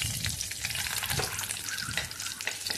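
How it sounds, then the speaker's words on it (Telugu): Drumstick pieces fry in hot oil with turmeric and salt, a dense, continuous crackling sizzle with bubbling pops, close up and with no voices. "నూనె కాగింది కదండి, కొంచెం పసుపు వేసి ఉప్పు వేసి ఇలా వేపాలన్నమాట అండి"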